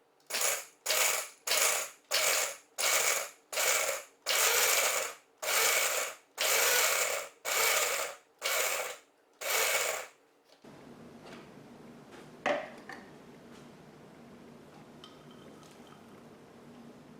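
A blender pulsing half a bag of dried cranberries, with about eleven loud, close bursts of grinding in an even rhythm, followed by quieter handling noise.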